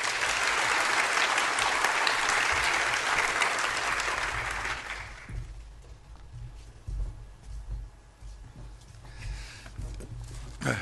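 An audience applauds to welcome Professor Whitehall to the stage at an oration, dense loud clapping for about five seconds that then thins out into scattered claps and room noise.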